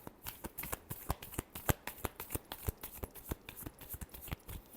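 Tarot cards are shuffled by hand in a quick series of crisp riffling snaps, close and alone, with no talk.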